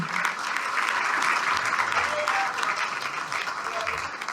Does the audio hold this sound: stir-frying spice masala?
no